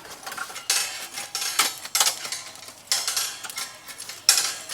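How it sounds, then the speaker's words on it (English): Burning charcoal is stirred inside a Komodo Kamado grill, producing repeated metallic scraping and clinking bursts in uneven strokes, close and fairly loud. "I'm just going to stir those flames around a little bit"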